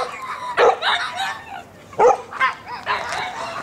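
Several small pet dogs bark and yip in short, loud bursts indoors, a few sharp clusters spread across the moment with brief pauses between them.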